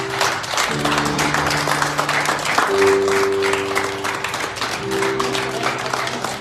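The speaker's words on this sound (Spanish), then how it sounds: "Denle un aplauso al Señor." Church congregation clapping in praise to the Lord, a sustained round of applause heard alongside sustained organ or keyboard chords, with some murmuring voices, lasting several seconds.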